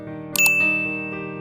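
A bright, clear bell ding rings out once with a quick double strike, then a long sustained shimmering tone lingers over a steady background.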